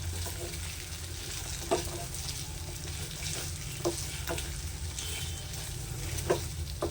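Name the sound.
stirring and frying paneer kachori filling in a pan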